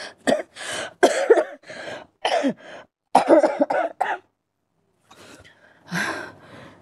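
A series of repeated, fairly close coughs in uneven bursts, with a short pause before a final softer cough and throat-clearing.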